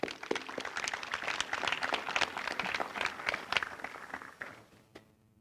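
Graduating students and guests at a school graduation ceremony applaud in a dense burst of many hands, fairly close and lively, before it fades away quickly into near silence at the end.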